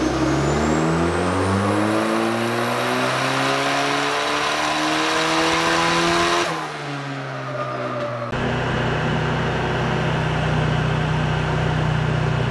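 Turbocharged Toyota 3RZ engine in a 4x4 Hilux, freshly fitted with a genuine fuel pump, runs loud and steady with rising revs, the tone sweeping upward before dropping abruptly to a rougher idle-like drone.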